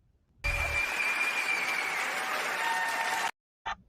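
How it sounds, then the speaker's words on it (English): An audience at a youth and adult summit panel claps for the parents, a sudden burst of full, even applause lasting about three seconds before cutting off, followed by a brief trailing sound. "parents, I must give you all a round of applause"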